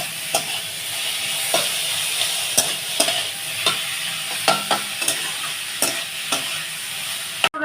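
Kharkol stalks fry in a pan, giving a continuous sizzling hiss broken by regular sharp scrapes and clacks of stirring, fairly close and with no talk.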